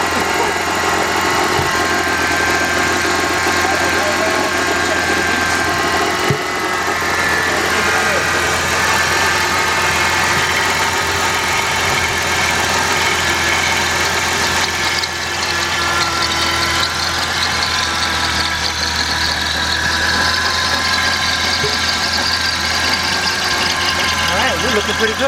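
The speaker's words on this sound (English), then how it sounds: "Alternator kind of whining." A 1996 Dodge Intrepid engine idles steadily and up close for a long stretch, with a thin, constant alternator whine riding over the low engine hum and a person talking at times.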